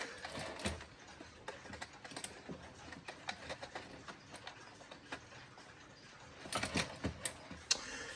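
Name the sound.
alarm clock being adjusted by hand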